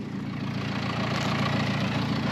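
A farm tractor engine idles close by, a steady low rhythmic chugging with an even throb that stays constant throughout, with no voices.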